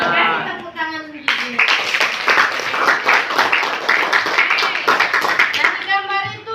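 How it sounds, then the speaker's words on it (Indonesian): Students in a classroom break into a burst of loud, rapid clapping for several seconds, with children's and a teacher's voices heard before and after the applause. "Kasih tepuk tangan dulu."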